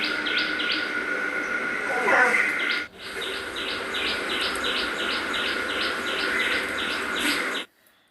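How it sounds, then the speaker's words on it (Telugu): A bird calls in the background with a rapid, evenly spaced run of bright chirps that repeats for several seconds at moderate loudness and then cuts off. "బ్యాక్గ్రౌండ్లో పక్షి అరుస్తుంది వినిపిస్తుంది కదండి"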